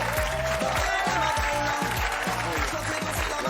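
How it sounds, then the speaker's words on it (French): Studio audience applauds and cheers as Franck Gastambide walks onto a French television talk show set, a dense, steady wash of clapping with rhythmic low thumps of music running underneath for a few seconds. "Applaudissements."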